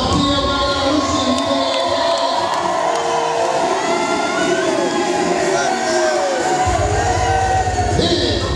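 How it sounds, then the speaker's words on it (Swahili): Wedding reception crowd cheering and ululating, a dense, loud wash of voices with high trilling calls running continuously, with music underneath and a heavy low beat entering near the end. "unaweza machapia vigelegele"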